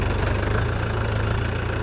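A tractor engine runs steadily while pulling disks across a field for winter feed crops. It gives a loud, continuous low rumble with a regular knocking pulse and no voices.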